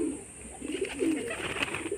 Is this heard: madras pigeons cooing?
yes